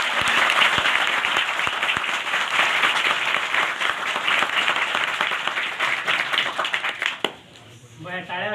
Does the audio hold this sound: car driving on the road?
no